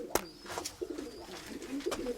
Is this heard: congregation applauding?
no